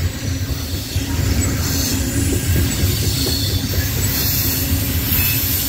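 Norfolk Southern freight train 596, led by EMD locomotive NS 1159, passing through Tarentum, Pennsylvania: a loud, continuous rumble of rolling railcars with squealing wheels and rhythmic clatter, close by, with no talk.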